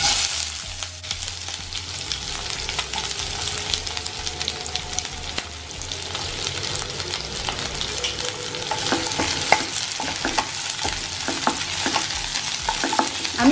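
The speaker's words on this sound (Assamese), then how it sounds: "এতিয়া আমাৰ তেলখিনি গৰম হৈ গল ইয়াত মই এতিয়া পিয়াজখিনি দি দিম" Chopped onions go into hot oil in a home kitchen and fry with a steady, close crackling sizzle, broken by occasional stirring and scraping in the pan, with no talk throughout.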